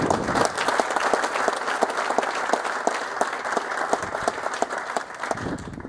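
Sustained clapping from a seminar audience thanking its speakers, thick and even throughout with crisp individual claps standing out near the front.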